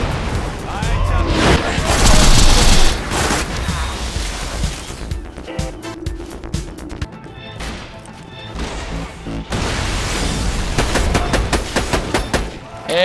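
Gunfire in the video game Borderlands 2 rings out in loud, irregular bursts of shots and impacts, mixed with crashes and game effects that run throughout.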